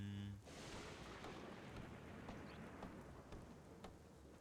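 Steady rain patters down at night in a video game, a soft, even hiss of drops that carries on throughout with no speech.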